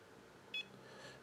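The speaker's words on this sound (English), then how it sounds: "We have our alarm tone." A Humminbird 597ci HD fish finder sounds a single short, high electronic alarm beep, brief and clear over faint background hiss.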